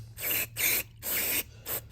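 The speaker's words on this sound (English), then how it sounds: "You're just going to get in there, spray it good." Aerosol cleaner sprayed onto the mass air flow sensor of a 2010 Subaru Forester: four quick hissing bursts, close and fairly soft, separated by short pauses.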